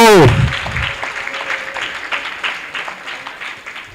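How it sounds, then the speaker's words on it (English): Audience applause at a meet-and-greet event swells after an opening shout, then settles into steady crowd clapping that gradually fades, with faint musical tones beneath. "Another round of applause to you, beautiful people."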